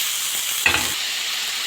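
Green fava beans frying with chopped onions in ghee and oil in a pan, a constant close sizzle with one brief stirring scrape in the middle, no voices.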